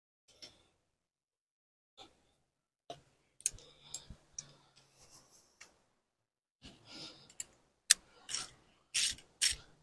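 A 13mm socket tightening wiper arm nuts on an Audi TT MK1, giving sparse ratchet clicks and metallic ticks that grow into quick bursts of clicking, close and fairly quiet with pauses between.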